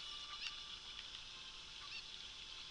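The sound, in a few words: chicken squawking in Zelda: Ocarina of Time video game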